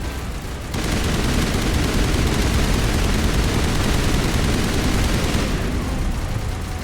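Sustained heavy gunfire from the Mass Effect video game, a dense continuous barrage of rapid shots starting after a brief quieter lead-in and holding loud for several seconds before easing slightly at the end.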